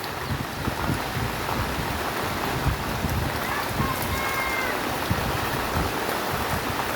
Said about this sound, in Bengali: আর এখন বৃষ্টি হচ্ছে